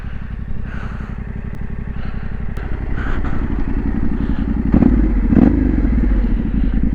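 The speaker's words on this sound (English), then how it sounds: "Bike sounds lush." A motorcycle engine idling and revving on a steep Yorkshire Dales road, close and loud, with a rapid pulsing exhaust beat that grows slightly stronger, plus a couple of thumps and clatters.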